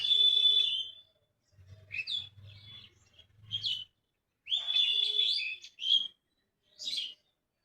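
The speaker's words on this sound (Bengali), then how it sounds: "এত সুন্দর পাখির ডাক শুনতে পান" Birds sing around a pomegranate tree in a rural village in the Rangpur region, giving a long whistled note, then a run of short chirps over a low rumble, followed by more whistles and tweets spaced out and heard alone.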